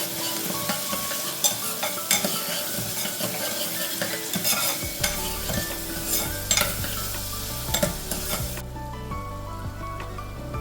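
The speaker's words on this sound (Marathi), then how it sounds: "आता हे सर्व आपण तेलावर परतून घेऊया." Curry leaves and finely chopped onion sauté in hot oil, a steady close sizzle broken by the scrape and clatter of a spoon stirring the pan, with no voices.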